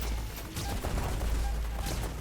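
Gunfire in the video game STHELL, dense rapid shots blending into a continuous loud burst with no pauses, and no talking.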